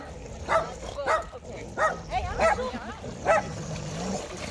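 A water dog barks and yips in a quick run of five or six sharp, close barks with whimpering between them, with people talking nearby.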